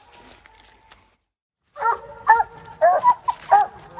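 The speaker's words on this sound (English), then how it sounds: "You can probably hear her barking back there in the background." Coonhound barking out on the trail during a nighttime raccoon hunt, a string of fairly distant, echoing barks and yips that start after a quiet gap and repeat in uneven bursts.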